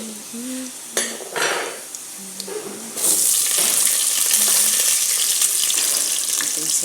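Sliced onions fry in a pan until brown, with a few scraping stirs of a utensil against the pan early on, then a steady, bright sizzle swells and holds for the rest.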